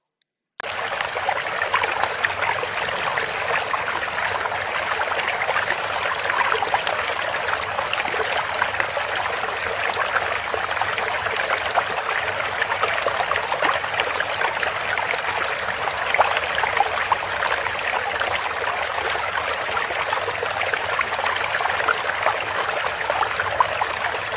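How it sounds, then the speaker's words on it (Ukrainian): Steady rushing of falling water, like a waterfall or cascading stream, a dense continuous hiss that runs unbroken and fairly loud from start to end with no voices. "заспокоює шум падаючи води"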